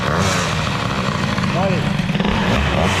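Peugeot 103 moped fitted with an Airsal 65 hybrid air-cooled kit idles steadily close by, its two-stroke putter labouring slightly and uneven, with someone talking over it.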